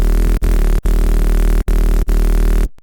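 Synthesized bass built in Serum 2, a loud, dense, sustained low drone cut into pulses by short rhythmic sidechain dips, then stopping abruptly.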